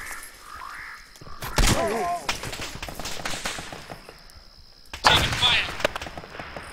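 Gunfire during a combat operation, heard as scattered sharp cracks and bursts of shots at varying distances, mixed with radio chatter and shouted voices.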